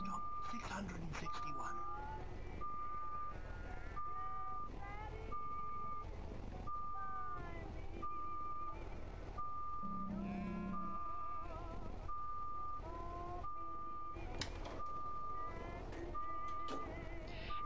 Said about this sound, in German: Wieso piepst du?